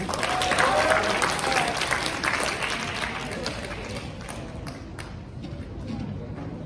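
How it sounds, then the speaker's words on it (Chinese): An audience at a 2020 Lunar New Year gala welcomes singers Amy and Michael onstage with warm, steady applause that swells at first, then gradually thins out over several seconds. "Let's welcome, 掌声有请。"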